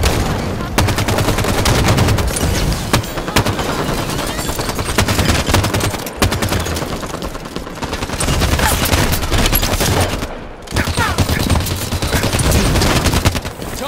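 Sustained automatic gunfire and rapid shots from a Halo 5 ranked Slayer match, loud and dense bursts nearly continuous across the whole stretch with brief pauses.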